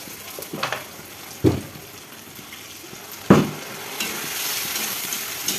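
A paste of ground cumin, coriander seeds, dried red chilli, garlic and ginger fries with onions in a pan for chicken kosha, sizzling steadily with two sharp stirring scrapes, close and clear, no talking.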